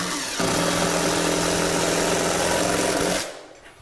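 Power drill whirring steadily for about three seconds while driving screws into a kitchen cabinet, a loud close motor drone with a buzzing hum that stops abruptly.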